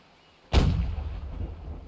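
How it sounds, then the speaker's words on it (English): A warship cannon from a naval battle video game fires one loud, booming shot that rolls out into a long rumbling tail, with no talk over it. "the Royal gunboat is tangoing with it and popping its cannons as it can"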